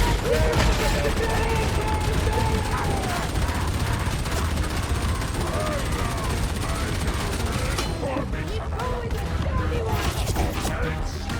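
Rapid, dense, sustained bursts from an Ogryn's Leadbelcher gun fill a video game battle, loud and continuous, with voices talking over the firing.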